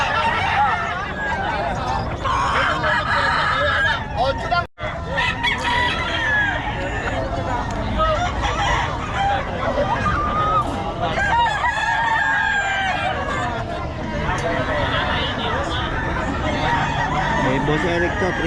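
A Boston Sweater gamecock crowing among other roosters at a busy gamefowl gathering, its calls rising over constant crowd chatter and nearby voices, with a loud, dense, continuous background throughout.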